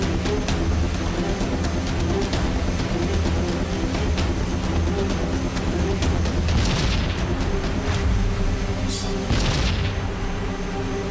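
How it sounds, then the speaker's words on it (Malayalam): Cartoon explosions blast across mountains in a series of deep booms and rumbling bursts over a dense, continuous soundtrack bed, a few sharper blasts standing out near the end. "അവിടെ ഇവിടെ എല്ലാം ബ്ലാസ്റ്റ് ആവുന്നുണ്ടല്ലോ"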